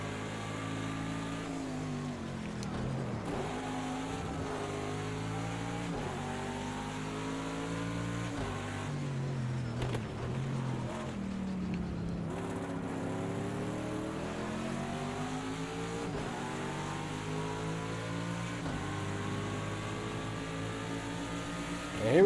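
Race car engine of a Chevrolet GTD car lapping Circuit of the Americas in Project Cars, a steady loud drone with harmonics rising and falling through gear changes, continuous for the whole stretch.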